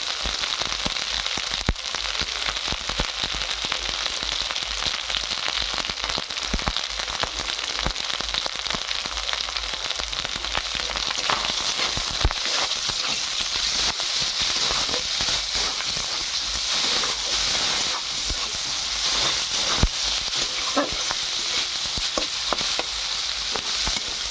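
Prawns fry in hot oil with a steady, dense crackling sizzle that stays loud and close throughout, dotted with sharp pops and spatters and no voices.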